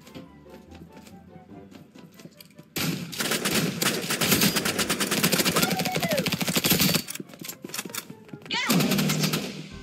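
Rapid automatic gunfire from an assault rifle in a Roblox gun game, loud dense bursts running for several seconds, with brief pauses and a final burst at the end.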